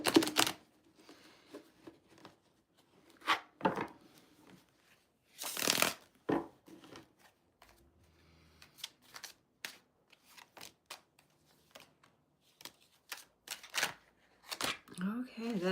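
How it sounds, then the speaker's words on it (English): Tarot cards are shuffled in quick crisp riffles and flicks, close and distinct, coming in several separate bursts with quiet gaps between. "Shuffle again."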